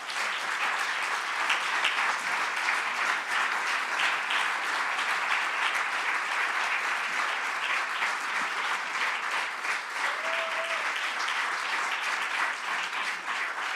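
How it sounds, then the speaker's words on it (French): A conference audience celebrating five years of a seniors' solidarity civic service programme gives a long, loud, sustained round of applause to welcome its beneficiaries. The dense clapping runs unbroken throughout, with a brief voice faintly audible within it. "ça va être un tonnerre d'applaudissements pour accueillir les bénéficiaires de ce dispositif"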